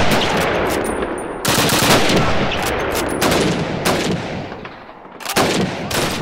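Loud, close bursts of rapid gunfire from a war video game, fired through a slit in a window, with sustained volleys broken by brief pauses.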